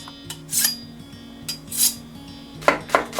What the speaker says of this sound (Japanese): 切れ味が悪いので包丁を研いでます。